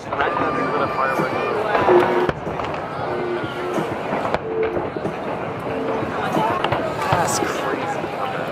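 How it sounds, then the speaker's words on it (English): Fourth of July fireworks bursting outdoors, a series of cracks and pops spread through the scene, with people talking and a crowd murmuring over them. "Right now, they're gonna firework."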